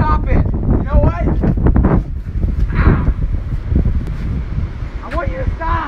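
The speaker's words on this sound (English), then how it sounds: "I hate the wind." Wind gusts buffet an outdoor microphone with a loud, continuous rumbling roar, while a person shouts and talks throughout over the blustery noise.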